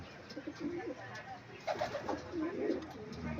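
A racing pigeon lands at its loft in Nueva Ecija, giving soft, low cooing calls close by among quiet background murmurs and light rustling.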